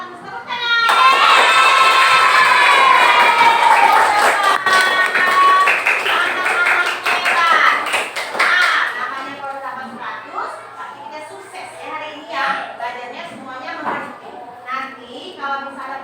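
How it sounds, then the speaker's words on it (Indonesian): Children in a classroom clap together in a loud burst that fades into scattered claps, with children's voices chattering and a teacher speaking over the tail end. "Tepuk tangan."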